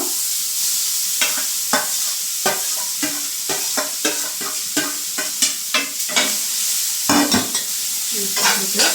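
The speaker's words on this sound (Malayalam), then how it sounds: "നമുക്ക് അതിലോട്ട് ബീട്രൂട്ട് ഉപ്പേരിയാണ് ഉണ്ടാക്കി കൊടുക്കുക" Steady hiss of beetroot stir-frying in a hot pan, with repeated scraping and stirring strokes throughout; no talking.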